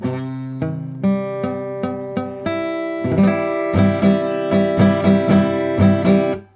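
Guitar strums with poor finger placement on the chord, ringing out, first several separate strokes, then a quicker run of repeated strums, close and clear with no talking.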